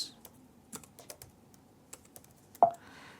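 Keys clatter on a computer keyboard as a kubectl command is typed, a quiet, irregular run of separate taps with short pauses between them, ending in one sharper keystroke, like pressing enter, with no talking.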